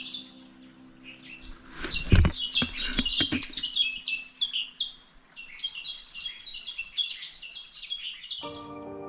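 Many wild birds chirp and twitter busily in the Tasmanian south-west wilderness, a dense overlapping chorus of bright close calls, with a few thuds and rustles early on.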